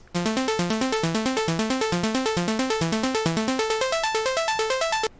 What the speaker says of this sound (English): I add this serum ARP, which sounds like this.